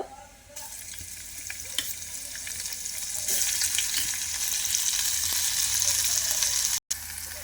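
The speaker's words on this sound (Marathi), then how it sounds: "यामध्ये घालूया आपण जिरे आणि यासोबत घालायचे आहे आपल्याला लसणाची पेस्ट" Cumin seeds and garlic paste fry in hot oil in a pan, giving a steady, close sizzle that runs throughout with a few brief clicks and scrapes.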